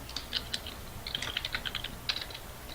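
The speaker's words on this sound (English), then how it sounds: "He's typing right now." Rapid clicking of computer keyboard keys, irregular bursts of taps heard up close and fairly quiet, without any voices.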